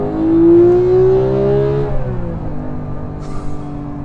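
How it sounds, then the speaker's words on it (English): A Porsche flat-six engine revs high and smooth, then drops off as the throttle lifts, leaving a lower burbling idle with a brief whine near the end. "while a flat 4 is kind of cool, a flat 6 adds a whole new layer of symphony"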